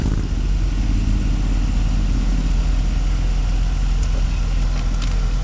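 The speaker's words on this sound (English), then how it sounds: "Turn the car on" Engine of a 2000 BMW Z3 roadster idling, a steady low rumble heard close up and continuously with no voices.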